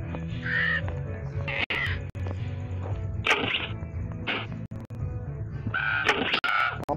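In the survival video game Survival Craft 2, a bird is struck and gives several harsh, cawing squawks spread across the stretch. Sharp whip-like hits and steady game background noise run between the calls.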